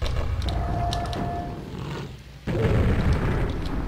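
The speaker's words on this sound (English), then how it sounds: "Grenade in the face." A grenade detonates in a DOS-era first-person shooter game, producing a loud, deep boom after a short dip in the noisy in-game background, then a rumbling tail.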